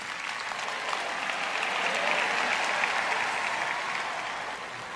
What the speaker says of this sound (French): Applaudissez plus fort que ça, je ne veux pas rester ici longtemps.